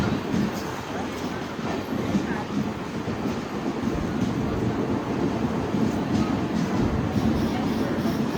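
Simhadri Express rolling into Yelamanchili railway station, a continuous low rumble of wheels and carriages with faint clatter, close by, while people talk underneath.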